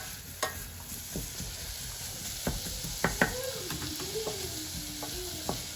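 Onions sizzle in a pot over medium heat under a steady hiss, while a spoon stirs them with scattered close scrapes and light knocks against the pot, with no talk.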